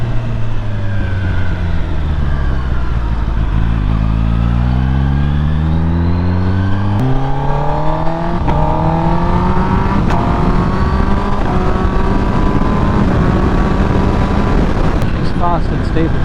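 A 2023 Kawasaki ZX-10R sport bike being ridden during break-in, its engine loud and close, climbing in pitch through several rising gear pulls with short shifts between, over constant wind roar.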